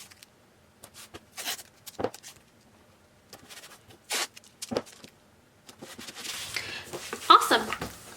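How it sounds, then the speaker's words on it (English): Painter's tape being pulled off the roll and pressed down onto a Cricut cutting mat, several short ripping and sticky crackling bursts, close and fairly quiet, with a voice talking in the clip. "I'm going to tape"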